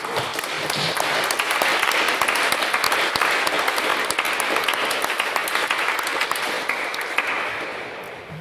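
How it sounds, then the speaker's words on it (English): A debate audience applauds after a speech, a loud, sustained wash of clapping that holds steady before tapering off near the end. "Can we get another round of applause for what was, once again, a fantastic main speech?"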